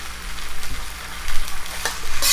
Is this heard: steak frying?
yes